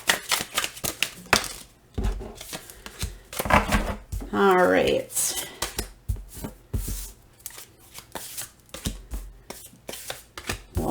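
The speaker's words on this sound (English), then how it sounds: "just a couple more shuffles here" Tarot cards riffled and shuffled repeatedly up close, a longer flurry of riffles in the middle, with a brief spoken remark at the start.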